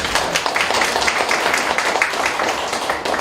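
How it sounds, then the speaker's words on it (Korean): A lecture audience applauds for a speaker's introduction, a dense, loud wash of many hands clapping continuously with murmurs mixed in. "박수 한번 주세요."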